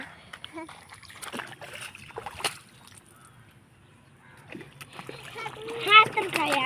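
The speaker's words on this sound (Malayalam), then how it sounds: "രണ്ടും വെള്ളത്തിൽ കളിക്കുകയാണ്" Children splash and play in water outdoors, with intermittent splashes and sloshing. Their voices and other talk run through the clip, and a louder burst of splashing comes near the end.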